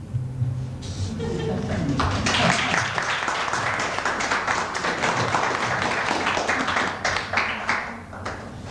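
Audience applause at a poetry reading during the Paterson Poetry Prize event: a sustained wash of clapping from a crowd, fairly loud and steady for several seconds before tapering, with a voice briefly audible at the start.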